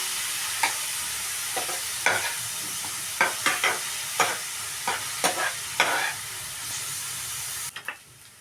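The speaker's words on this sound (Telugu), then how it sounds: "ఇప్పుడు ఏంటంటే మనకి ఆనియన్స్ బ్రౌన్ కలర్ వచ్చేదాకా మనం వేయించుకోవాలి" Chopped onions sizzling in a pan for a prawn curry, a continuous hiss broken by repeated scraping stirs of a spoon, close and clear with no speech.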